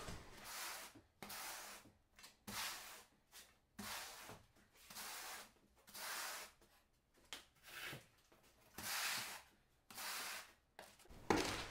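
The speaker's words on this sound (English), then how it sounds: "now we're going to use a Euro trowel and trowel on ridges to our backer board" A Euro trowel combs ridges of thinset mortar onto backer board, giving a series of repeated scraping strokes of roughly a second each, close and moderately loud, with short pauses between them and no talk.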